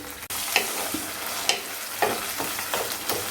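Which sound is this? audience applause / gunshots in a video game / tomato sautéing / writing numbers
tomato sautéing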